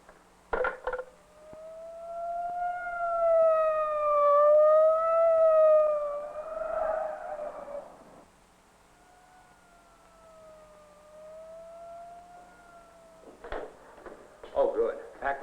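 A motorcycle police siren wails in a rising and falling tone, loud and close, then fades to a fainter steady wail, with voices talking briefly at the start and end.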